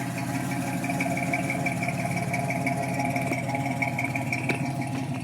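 A 1964 GMC truck engine idles steadily through a new dual exhaust, a continuous low rumble with even mechanical tones running without pause, moderately loud and close, with no voices.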